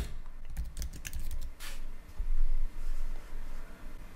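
Someone types a username, password and email on a computer keyboard, producing quick, close clusters of plastic key clicks in irregular bursts with brief pauses, over a faint room hiss.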